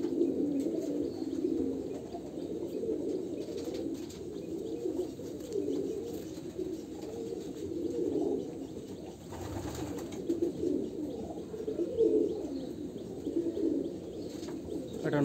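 Pigeons at a home loft coo continuously in low, throaty, rolling calls, close and steady, with a brief burst of movement or flapping midway.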